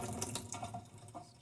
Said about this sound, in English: Just going to drain off that water now.